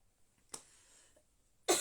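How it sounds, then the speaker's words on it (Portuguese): A person in a live stream coughs and chokes in two bursts, a short harsh cough then a louder, broader one near the end, with quiet room tone between. "Acabei de engasgar aqui"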